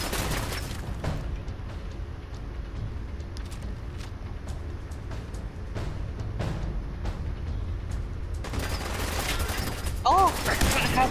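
Sustained gunfire from a post-apocalyptic shooter set in Vault 116, with dense overlapping automatic shots and bursts that continue steadily and grow slightly louder near the end.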